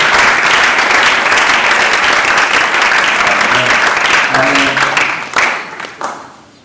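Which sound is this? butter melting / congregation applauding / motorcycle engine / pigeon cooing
congregation applauding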